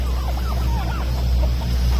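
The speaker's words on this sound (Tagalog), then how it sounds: "Nag-iisang barako natin na roster." The farm's only breeding rooster gives short clucks among other fowl. The calls come from fairly close over a steady background hum, with no talk.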